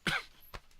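A single sharp cough bursts out at the start, followed by a couple of fainter, short throat noises, close and with no talking.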